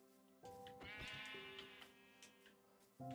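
Sheep bleating in Minecraft: a single drawn-out, wavering bleat rises clearly near the start and holds for a couple of seconds, alone and fairly close, with another sound starting at the very end.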